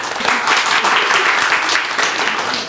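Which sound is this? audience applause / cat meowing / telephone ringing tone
audience applause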